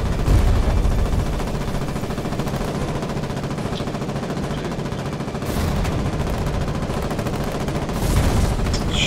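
Dense, continuous gunfire in the Foxhole war game, rapid shots rattling steadily throughout with heavier bursts near the start and end, with no voices over it.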